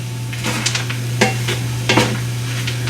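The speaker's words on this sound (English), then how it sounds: "Kind of stir this all up" Chicken fried rice with mixed vegetables being stirred in a pan, with several scraping, clattering utensil strokes over a low steady hum and soft sizzling, close by and with no voices.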